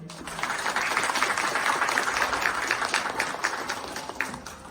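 An audience applauds with dense, steady clapping that holds at an even level for several seconds.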